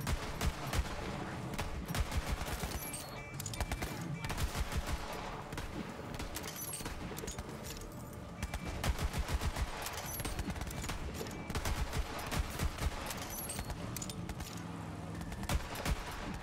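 Rapid gunfire rattles through a Borderlands 3 battle, bursts of automatic shots and repeated cracks coming in dense volleys across the whole stretch, fairly quiet overall with a little talk mixed in.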